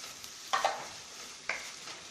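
Onions added to hot butter and oil sizzle faintly in a pan while being stirred, with two or three brief bursts of crackle and scraping against a quiet, low background.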